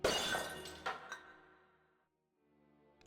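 A tall urn smashes into tiny pieces in the Discworld Noir video game: one loud shattering crash, then a few tinkling chinks of scattered debris that fade to near silence.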